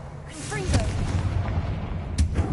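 A Confringo fire blast spell explodes in Hogwarts Legacy: two sharp, booming bursts, one early and one near the end, over a rumbling game backdrop.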